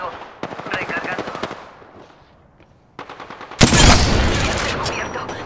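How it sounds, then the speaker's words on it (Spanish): Automatic gunfire from the video game Apex Legends: bursts of rapid shots early on, a lull, then a loud, dense sustained volley near the end, with some game voice audio mixed in. "Abriendo fuego."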